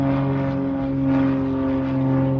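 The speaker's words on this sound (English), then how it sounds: "There's an airplane actually taking off from Municipal Airport" A small propeller airplane takes off from a municipal airport, a steady droning engine hum with strong tonal bands, loud and continuous, without talk.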